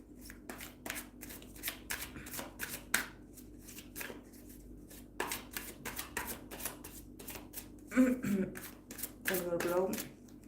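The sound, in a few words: shuffling tarot cards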